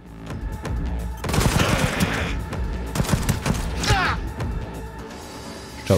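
Rapid bursts of gunfire ring out in a shooter video game, clustered volleys with sharp cracks and short pauses, close and loud, with a voice heard briefly.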